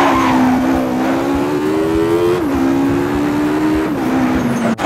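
A Vauxhall 220 turbo engine pulls hard and loud up close, its droning pitch climbing steadily with brief dips at gear changes and a constant roar of wind and road noise.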